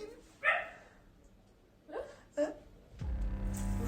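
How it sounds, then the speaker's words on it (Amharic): A dog gives a few separate barks at intervals, fairly faint and spread out, then a louder rumbling noise begins near the end. "የምን ውሻ ነው ያለው እንደ ውሻ የሚጮዋሉ"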